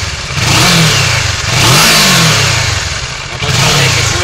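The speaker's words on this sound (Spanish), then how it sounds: "El motor suena muy bien, sube muy bien de vueltas." Kawasaki Versys motorcycle engine revving close by, the pitch swooping up and falling back in repeated throttle blips over a steady idle, loud and alone.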